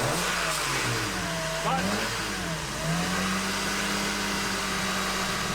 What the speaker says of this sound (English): going to give it a few revs while I'm underneath the car